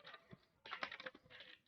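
Typing on a computer keyboard while customizing a Linux terminal, quiet close clicks in short bursts with a brief pause, no talk.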